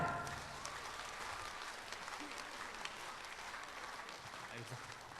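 Dense, steady applause from a concert audience at a Mongolian ensemble's 40th anniversary performance, with many hands clapping continuously for several seconds, filling the room evenly at a moderate distance.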